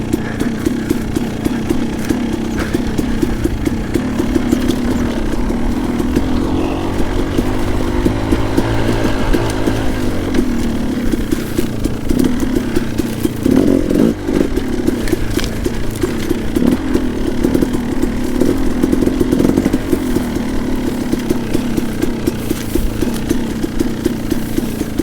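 A KTM 300 two-stroke dirt bike engine buzzes and revs steadily through a mineshaft, loud and continuous with rattling clatter from rough rocky ground for the whole stretch.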